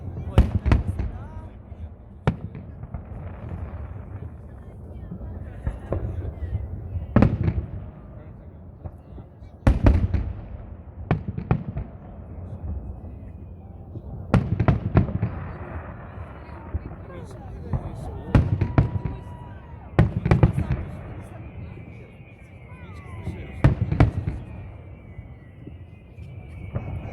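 Victory Day fireworks salute at Brest Fortress marking the 77th anniversary of the Victory: a string of heavy booming bursts, some distant and some sharp, with crackling between them and people talking over the display.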